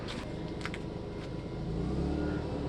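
A Ryobi portable generator runs outdoors with a steady engine drone that swells as it revs up near the end, heard from a short distance with faint clinks over it.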